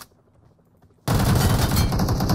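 Gunfire in the mobile game PUBG Mobile: after a second of quiet background, a sudden loud burst of rapid automatic shots continues to the end.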